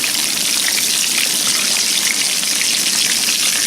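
Catfish fries in hot grease with a steady, dense hiss of sizzling that stays even and fairly loud throughout, with no voices.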